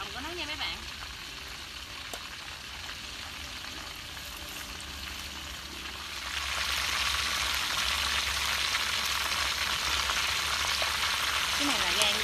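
Pork offal, liver and heart, fries in a pan with a steady crackling sizzle that grows louder and denser partway through, close up and continuous.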